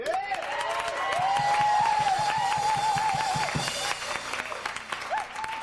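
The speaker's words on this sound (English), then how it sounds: "I'd like you all to join me in giving a warm round of applause to our star" Audience applause rises and sustains for several seconds, steady clapping from a crowd mixed with tonal music or sung notes running over it, then thinning toward the end.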